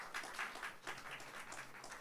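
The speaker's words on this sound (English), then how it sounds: "A round of applause." A crowd applauding steadily throughout, a dense patter of many hands clapping at moderate volume, with no voices over it.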